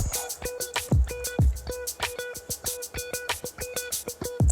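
Sugar syrup pours into a jug of lemon juice for homemade lemonade, a close, quiet stream of rhythmic glugs and drips with small splashes.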